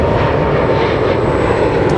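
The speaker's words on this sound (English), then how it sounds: "There's an airplane over there." An airplane flies overhead in Los Angeles, a loud, steady broadband engine roar that holds evenly through the whole stretch with no voices.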